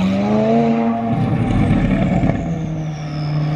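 A straight-piped 650 hp McLaren 570S drives by loud and close, its engine note droning and shifting pitch steadily.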